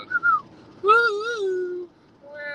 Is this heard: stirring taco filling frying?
no